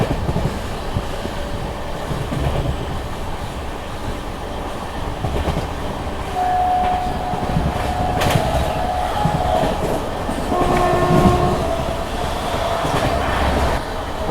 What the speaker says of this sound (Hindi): हमारी ट्रेन सीधे नई दिल्ली पे जाकर रुकेगी